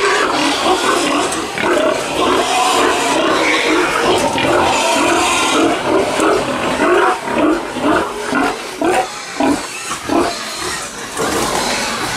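Pigs grunt and squeal close by, a busy stream of snorts and rough oinks that turns into choppy bursts toward the end.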